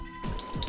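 Bread pakora slipped into hot frying oil, a sudden sizzle bursting up after a quiet start and crackling steadily for a moment, close and brief.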